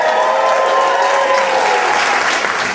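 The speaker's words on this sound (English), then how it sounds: "applause, yeah?" Loud, dense applause from a stand-up comedy audience in the Berkshires, sustained and close throughout with a few cheers mixed into the clapping.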